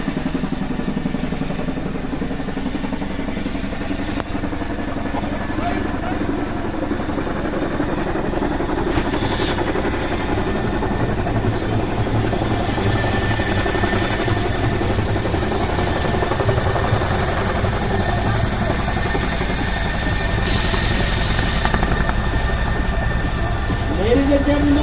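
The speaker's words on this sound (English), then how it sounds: "This is the power of the Chinook." Chinook helicopter performing at an air show in Kashmir, a loud continuous rotor roar and engine drone held steady throughout, with crowd noise beneath.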